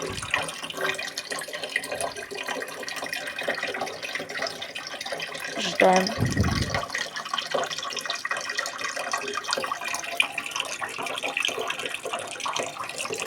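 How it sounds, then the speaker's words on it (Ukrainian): Water running from a tap into a pot at a steady pour, with a brief clunk midway and a short word spoken softly. "ось вода набирається"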